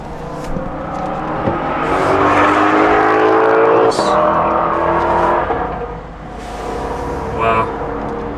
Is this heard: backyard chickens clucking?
no